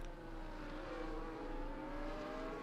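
Racing cars' engines, including a McLaren, drone steadily in a racing video game, a continuous close engine whine holding pitch as the cars run side by side.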